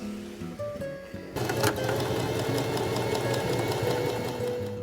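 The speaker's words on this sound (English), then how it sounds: "Now I'm going to press it and then sew right on the seam." A sewing machine starts up after a few soft mechanical clicks and then runs steadily and fairly close, stitching along a dress neckline seam.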